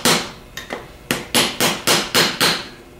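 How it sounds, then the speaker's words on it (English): Steel hammer striking a small drift to tap the back plate off a 42MT, eight sharp metallic taps in an irregular then steady rhythm, loud and close with no talking. "take a hammer and a small drift or an extension or something, and tap this back plate off of here"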